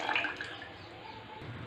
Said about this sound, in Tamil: இந்த பாத்திரத்தில் 2 டம்ளர் தண்ணி ஊற்றிக்கோங்க.